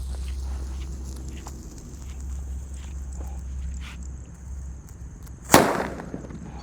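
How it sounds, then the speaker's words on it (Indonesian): A mercon petir thunder firecracker set off during New Year celebrations, with a low steady rumble of background noise before a single sharp, loud bang that decays quickly into a short echo. "untuk pemanasannya kita nyalakan mercon petir bosku"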